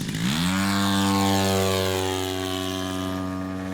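An Extreme Flight 78-inch Extra 300 RC airplane on landing approach, its propeller engine whining up in pitch then holding a steady buzzing drone as it passes fairly close, loud and alone.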